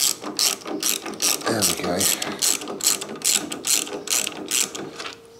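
A ratchet works loose a bolt on a 1990 Kawasaki ZZR1100 motorcycle, giving a loud, close, rhythmic clicking in quick repeated strokes with brief pauses. Someone speaks a couple of words partway through.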